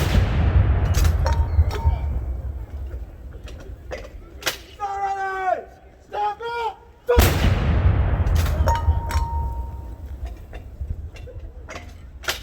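Field artillery guns fire in a reenactment by the 111th Field Artillery, Virginia Army National Guard: loud booming blasts, one heavy report around the seventh second, with outdoor rumble and voices calling commands throughout.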